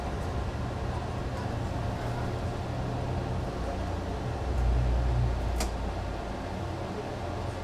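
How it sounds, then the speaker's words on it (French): Air conditioning in a city bus cabin roars as a steady, broadband blower hiss with a low engine rumble beneath, continuous and fairly loud throughout, swelling briefly near the end. "la clim fait beaucoup de bruit"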